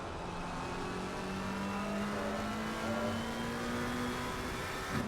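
Onboard race car at a Nürburgring winter endurance race, engine note climbing steadily as the car accelerates, loud and continuous with a rising tone and no pauses, heard from inside the cockpit.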